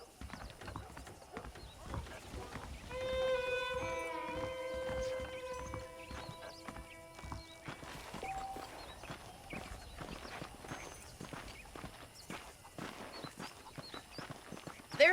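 Horse hooves clip-clop steadily in the video game Red Dead Redemption, a rhythmic trotting run at moderate distance, with a horse whinny and a musical tone early on, mixed under game sounds without talk.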